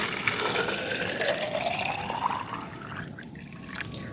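Water, about one liter, is poured into a jar of used tea leaves, making a continuous close splashing and gurgling that tapers off near the end; no one speaks.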